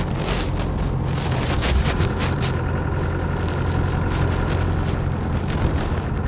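A 200TDi diesel engine in a Land Rover Defender 90 station wagon runs continuously on the road, loud and close, with wind buffeting the microphone and no one speaking.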